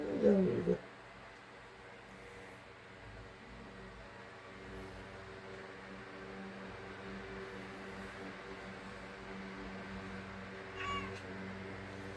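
A single short meow at the very start, then a long stretch of steady low background hum.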